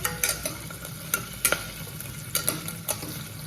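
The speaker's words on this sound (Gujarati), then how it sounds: "આને આપણે સારી રીતે મિક્સ કરવાનું છે" A spoon stirs farali sama millet khichdi in a pan, giving scraping clinks every half second or so over a soft sizzle, close and clear with no talk.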